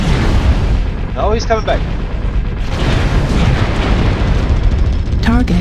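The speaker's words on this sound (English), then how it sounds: "Artillery strike online." Deep rumbling artillery explosions boom from a MechWarrior Online battle in a forest colony map, loud and sustained, while a voice talks and radio chatter chirps over the blasts.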